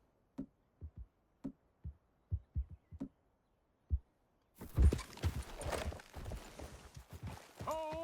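Horses' hooves clip-clop in Red Dead Redemption 2, a slow, uneven series of soft, separate thuds, followed by a louder rush of rustling movement and a faint whinny near the end.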